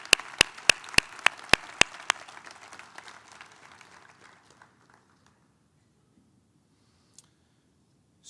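An audience at an awards plenary applauds the award recipients, a crowd's clapping that fades out over a few seconds, with several sharp, loud claps close by at the start and a couple of isolated clicks afterward.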